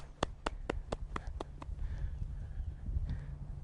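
Horse hooves clip-clopping in a steady, evenly spaced run of about eight sharp beats during a riding training exercise, then fading into softer stable and arena noise under low background rumble.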